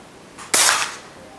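One airsoft gun shot during a chronograph velocity test, preceded by a faint click, then a loud snapping pop that fades quickly into quiet.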